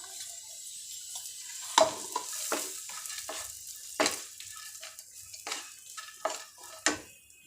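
Cashews, walnuts and almonds are stirred in a pan for healthy mixed-flour ladoos, giving a soft sizzle with repeated scraping and clinking strokes of the spoon, close and alone without talk.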